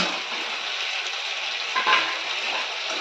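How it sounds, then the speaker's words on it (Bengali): Fried potatoes going into sizzling masala in a pan, a loud, dense, steady frying hiss with a brief swell of crackle as they land, no talking. "এবার আমি দিয়ে দেবো ভেজে রাখা আলু"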